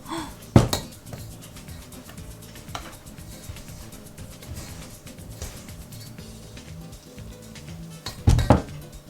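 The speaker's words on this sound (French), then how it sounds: "on commence à malaxer avec le fouet et après ça va être à la main" Cookie dough with Smarties being mixed in a bowl, with dull clatter and scraping close by and a couple of sharper knocks near the start and end, and no talking.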